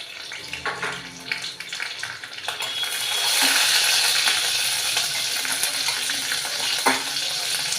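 Mustard seeds and green and dried red chillies fry in hot oil, a steady, fairly loud crackling sizzle that swells after the first few seconds and holds, with scattered pops; no talk.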